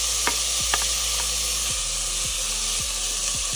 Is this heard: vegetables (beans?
yes